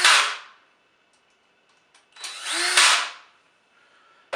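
Two short bursts of a drill boring hardware holes in new cabinet doors, each rising and fading with a bright, noisy whir, separated by a quiet pause and a few light clicks.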